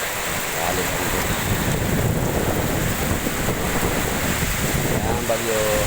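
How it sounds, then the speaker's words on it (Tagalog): Typhoon with strong wind and heavy rain roaring steadily throughout, a dense, loud wash of gusts and downpour, with a voice briefly audible in the background. "Nagalit ang bagyo."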